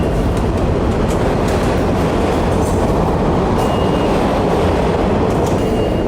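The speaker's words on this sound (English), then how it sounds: "Gonna hop on the train here." A New York subway train rumbles loudly and steadily throughout, a dense continuous roar of wheels and car noise with faint clatter, heard close as if riding aboard.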